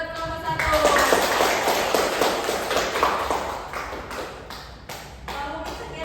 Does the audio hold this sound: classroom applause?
yes